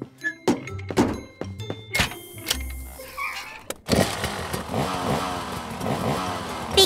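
A cartoon truck sets off for a spin on an open road, with a few thunks and clunks first, then a steady rumbling engine drive building up and running continuously to the end.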